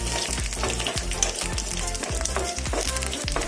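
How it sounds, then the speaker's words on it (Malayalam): Three dried red chillies and curry leaves crackle in hot oil, a dense continuous sizzle that stays loud and close, with rhythmic pops and stirring throughout. "3 ഉണക്കമുളക്, പിന്നെ കുറച്ച് കറിവേപ്പില ഇതിട്ട് നന്നായിട്ടൊന്ന് ചൂടാക്കുക."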